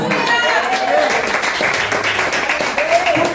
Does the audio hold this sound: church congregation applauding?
yes